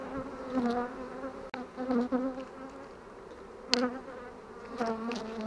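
Honey bees buzz around a hive frame of capped honey during sunflower bloom, a steady close droning with individual bees passing near and louder for moments, no voices.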